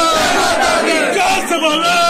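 A dense crowd of pilgrims loudly chanting "Jai Mata Di" in unison at Kamakhya temple during the Ambubachi Mela, a continuous roar of many overlapping voices with no breaks.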